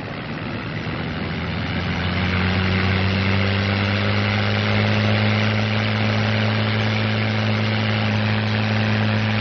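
A P-51 Mustang's piston engine roars at takeoff power with the propeller at maximum RPM, a loud, steady, close drone that builds slightly in the first seconds and holds with no voices over it.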